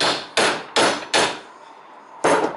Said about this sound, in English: And now I use this hammer.